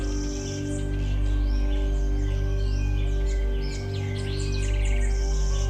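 Several birds chirp and trill in varied, overlapping songs, clear and fairly close, over a steady low background hum.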